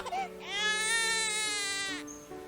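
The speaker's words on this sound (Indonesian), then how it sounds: "Suara bayi siapa nih?" A baby cries in one long, loud wail that rises and holds before tapering off, heard up close and with no other voices over it.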